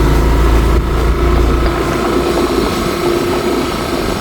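A 2024 Yamaha NMAX turbo scooter being ridden around a park, its engine a steady loud drone with low rumble, close and continuous, slightly easing toward the end.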